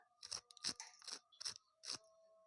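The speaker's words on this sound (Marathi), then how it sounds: "आपले कारले किती कुरकुरीत झाले हे मी तुम्हाला दाखवते" Crispy fried bitter gourd (karela), a Maharashtrian side dish, crunches up close in five sharp, evenly spaced bites about half a second apart, quiet but distinct, with no talking.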